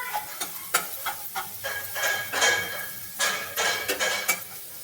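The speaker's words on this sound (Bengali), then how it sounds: "বিনসটাকে নাড়াচাড়া করছি" Beans being stirred in a pan while frying for vegetarian khichuri, a utensil scraping and clinking against the metal in irregular bursts over a soft background sizzle.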